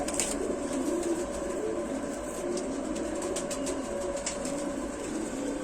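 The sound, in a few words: Rampuri pigeon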